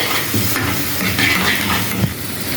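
Garlic and black pepper sauté in a hot pan as a quick tempering. A close, loud, hissing sizzle runs throughout, broken by scraping stir strokes.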